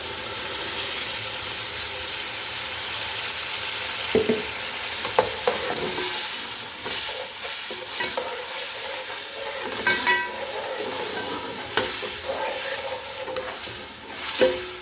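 Steady frying sizzle of spice paste in a pan with occasional stirring scrapes and clinks, fairly close and continuous, no talking.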